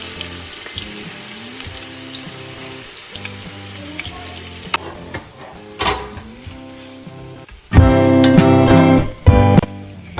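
Sliced onions for a Karnataka-style mutton biryani drop into hot oil, starting as a soft, steady sizzle with clinks and scrapes before flaring into a loud, dense crackle toward the end; no voices.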